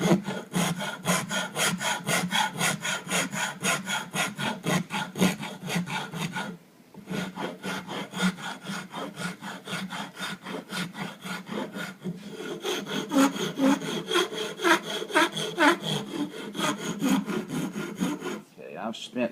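Steady back-and-forth rasping of a wood rasp shaping the back of a wooden spoon bowl clamped in a vise, loud and close with continuous strokes and a brief pause midway.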